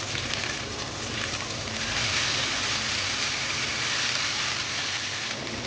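Oyster omelette egg mixture frying in plenty of hot oil in a wok, a steady, loud, dense crackling sizzle that holds throughout without a break.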